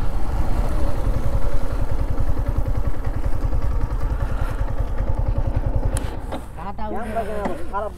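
A Yamaha MT 15 motorcycle engine runs close by with a loud, rapid, steady thumping idle that eases slightly near the end, where a brief higher whine and clatter come in.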